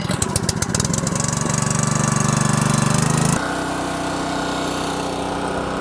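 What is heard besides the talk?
gas engine of 3465 log splitter starting and running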